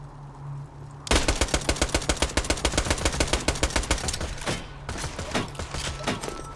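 Rapid automatic gunfire from a secondary weapon in the video game Borderlands 2: a loud, steady stream of evenly spaced shots for several seconds, then a few looser, scattered bursts.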